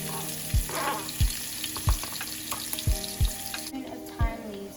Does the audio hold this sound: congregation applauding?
no